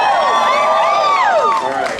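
An audience at an Indiana Jones Adventure attraction panel with Tony Baxter lets out a short burst of rising whoops and cheers, close and lively, tapering off after about two seconds.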